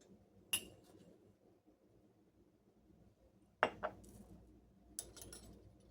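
A metal measuring spoon clinking against a container while dried herbs are measured for a detox tea: three sharp, close clinks spaced apart, the middle one doubled, in a quiet room.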